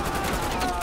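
Gunfire in Call of Duty Cold War under suppressive fire: a short, dense burst of rapid shots, loud and close, with a voice faintly present underneath.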